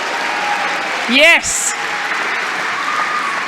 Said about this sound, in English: This is a safe space for any kind of clapping, wooing.